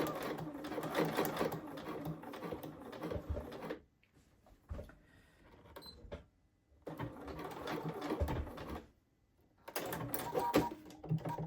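A sewing machine stitches a blazer pocket lining up to a snipped point in three close, loud runs of rapid whirring, each cut off by a brief quiet pause.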